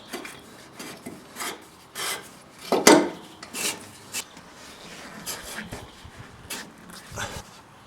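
An Air Lift air bag on a Dodge Ram's air ride suspension is spun by hand onto its bottom bolt, making close, repeated rubbing and scraping turns in an uneven rhythm with a sharper grinding scrape partway through.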